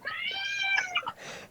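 A pet cat gives one clear, close meow with a rising then falling pitch, followed by a short softer chirp, with no talking over it.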